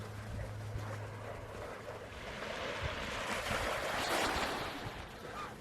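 Gentle, quiet waves lap at Portmahomack Beach on the Dornoch Firth, a soft continuous wash of surf mixed with outdoor wind noise, swelling slightly toward the end.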